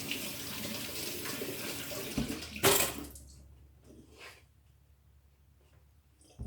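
Tap water runs steadily into a sink while tomatoes are rinsed, close and moderately loud, then a sharp splash before the flow shuts off and only faint handling noises remain.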